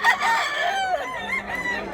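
A bullstag rooster crows loudly and near, a single drawn-out call with a wavering tail.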